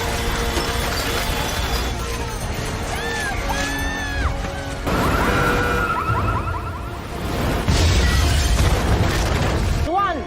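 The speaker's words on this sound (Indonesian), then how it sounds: "Ledakan raksasa menerangi luar angkasa." In a film, a space station is destroyed by a huge explosion, with deep rumbling booms and crashing debris filling the sound under constant dramatic music and effects, loud and sustained.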